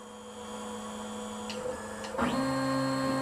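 Gatton CNC machine axes moving while homing: a steady motor whine over constant mains hum, with pitch changes as the drive starts, stops and shifts near the end, heard up close without talk.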